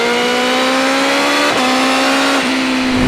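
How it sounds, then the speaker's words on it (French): A BMW M 1000 R motorcycle with carbon wheels accelerates hard, its engine note climbing steadily with quickshifter pops cracking at two upshifts, loud and close. "Les coups de fusil au shifter."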